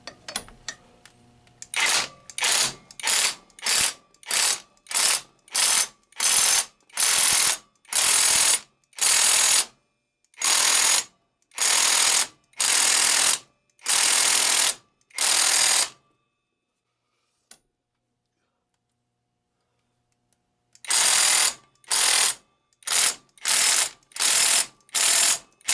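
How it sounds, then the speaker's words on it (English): Big impact driver hammering on a flywheel puller to pull a flywheel off an opposed-twin engine, a loud run of rapid rattling bursts with short pauses and a longer gap before more bursts. "We'll bring our big impact driver, and it should pull that right off of there."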